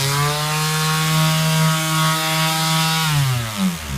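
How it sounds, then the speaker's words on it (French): An orbital sander runs with a steady, buzzing motor hum full of stacked overtones, loud and close, its pitch sagging slightly as it winds down near the end. "nous avons inventé la ponceuse vibreuse"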